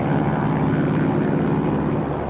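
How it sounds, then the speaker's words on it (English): Constant droning engine of a single-engine Piper Saratoga propeller plane in flight, loud and steady from start to finish with no talking. "The Saratoga is a single-engine propeller plane."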